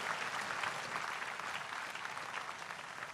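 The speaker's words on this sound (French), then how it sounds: "Applaudissons pour Jésus-Christ." A church audience applauds for Jesus Christ, giving a dense, even wash of many hands clapping at once, steady and fairly faint, with no voices standing out.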